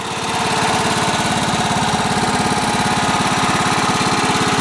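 A Honda riding mower engine idles steadily at low speed, a loud, even chugging drone that never changes pace.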